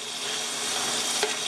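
Sausage sizzles and fries in a pan as it is stirred, a dense steady crackle with one brief sharper scrape near the end, no talking.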